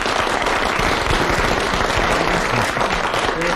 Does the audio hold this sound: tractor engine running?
no